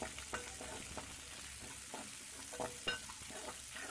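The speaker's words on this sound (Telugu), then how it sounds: "కరివేపాకు కూడా వేసుకుని ఇవన్నీ ఫ్రై చేసుకోవాలి." Green chillies and curry leaves frying in hot oil for an Andhra brinjal pachadi, a steady close crackling sizzle with scattered light pops and the occasional scrape of a stirring spoon.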